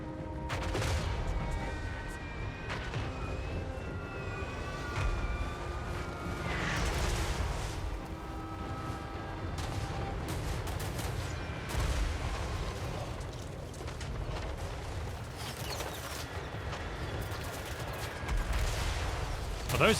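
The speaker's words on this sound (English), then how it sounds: "Those field guns are so accurate" Field guns firing in a Total War: Warhammer III battle, with dense, continuous booms and crackling volleys layered over a constant roar of fighting and occasional voices throughout.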